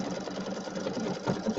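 A sewing machine hums steadily at close range while stitching a Halloween settee pillow, one continuous run of rapid stitching with no pauses.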